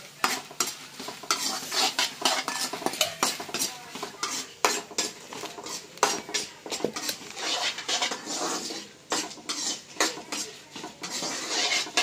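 Dried red chillies and garlic fry in a pan for a prawn-head chilli dish, a steady close sizzle broken by frequent sharp scrapes and clinks of a spoon stirring against the metal, with no voices.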